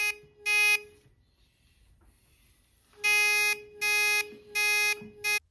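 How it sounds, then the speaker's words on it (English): An electronic buzzer on a jewelry box alarm circuit beeps in sharp, piercing bursts, two short ones, a silent pause, then four more in a steady pulsing rhythm, loud and close. "This pulsing signal drives both the LED and the buzzer, making them flash and beep as an alarm."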